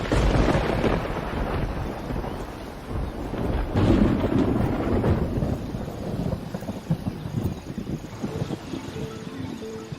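Thunder rumbles in Kruger at the onset of the summer rains, a deep, loud, rolling storm sound mixed with wind buffeting and steady rain noise, with no voices.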